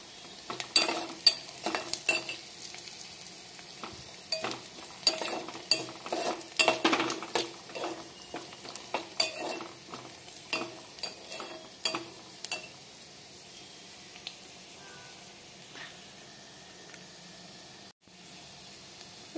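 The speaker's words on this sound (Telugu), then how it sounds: "వీటిని కొంచెం వేగనిద్దాం." Onions sizzle gently in a pan for rasam while a utensil stirs and scrapes them in irregular bursts of clinks and scrapes, fading to a quieter sizzle near the end; no one speaks.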